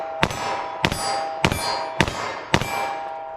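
A snub-nosed revolver fires hot .32 H&R Magnum +P ammunition: five sharp, loud reports evenly spaced about 0.6 seconds apart, each with a ringing metallic tail, and no talking.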